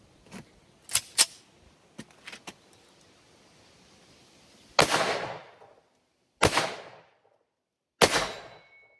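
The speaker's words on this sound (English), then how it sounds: "Now moving on to the Remington 1911 R1 long slide." A Remington 1911 R1 long slide .45 ACP pistol fires three loud, evenly spaced shots, each a sharp crack with a short ringing decay, after some light clicks and handling noises.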